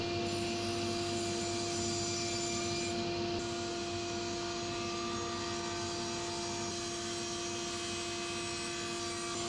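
A table saw runs with a continuous, tonal motor whine while it cuts scrap wood, and a faint rasping rub sits under the hum. The sound is steady and fairly close, with no speech.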